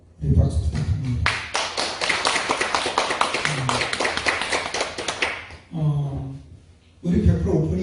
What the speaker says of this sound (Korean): 앞으로 믿음 생활 잘할 수 있도록 우리 박수 부탁합니다.